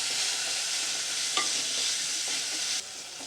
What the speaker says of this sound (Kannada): 1 ಟೇಬಲ್ ಸ್ಪೂನಷ್ಟು ಶುಂಠಿ ಬೆಳ್ಳುಳ್ಳಿ ಪೇಸ್ಟ್ನು ಕೂಡ ನಾನು ಹಾಕ್ಕೊಳ್ತಾ ಇದ್ದೀನಿ. ಅದನ್ನು ಕೂಡ ನಾವು ಹಸಿ ವಾಸನೆ ಹೋಗೋ ತನಕ ನಾವು ಚೆನ್ನಾಗಿ ಫ್ರೈ ಮಾಡ್ಕೋಬೇಕಾಗುತ್ತೆ